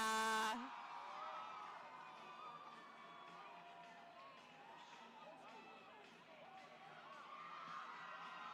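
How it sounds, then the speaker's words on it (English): A crowd at the Naval Academy ship selection cheers and shouts in a sustained, echoing roar after a sharp opening burst, with voices mixed into the noise. "The crowd goes wild"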